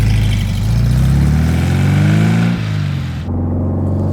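A black 1964 Porsche 356 C Coupé drives on a country road, its engine a loud, continuous drone whose pitch climbs as it accelerates, then briefly drops and levels out again, with no voices.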